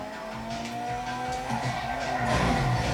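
A car in Grand Theft Auto V drives hard, its engine droning steadily while the tires squeal and skid in sliding tones, loud and close with no talking.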